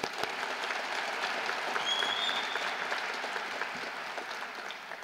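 Graduation-ceremony audience at a 2018 community college commencement gives another round of applause: a broad, even wash of many hands clapping, heard at a distance and fairly soft, sustained throughout.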